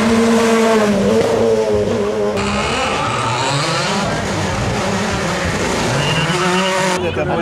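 A WRC rally car drives a shakedown stage at the 2011 Rallye de France Alsace. Its engine revs loudly and rises and falls in pitch through the gears as it passes fairly close, with a brief rev burst at the end.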